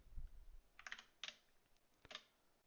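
Several quick keystrokes on a computer keyboard while a number is entered, coming in short clusters of clicks with brief pauses between them, close and fairly quiet, with no talking.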